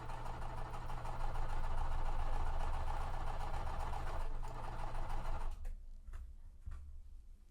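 A domestic sewing machine chain-stitches small quilt pieces with slightly low thread tension, a steady dense whirring that runs continuously for about five seconds, then stops, leaving a few faint clicks and handling noises.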